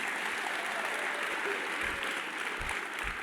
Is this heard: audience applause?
yes